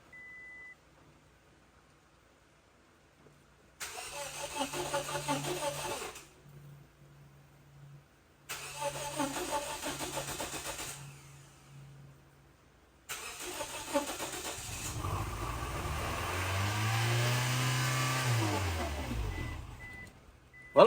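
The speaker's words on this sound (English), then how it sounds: "Well, it cranks." A Scion xB engine being revived cranks in three separate bursts of steady whirring, each stopping after a few seconds, then catches on the last try and runs with a rising and falling rev.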